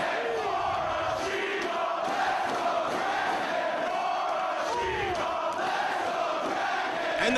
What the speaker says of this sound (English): And the crowd telling both of these athletes how much they appreciate the efforts in this matchup for the world title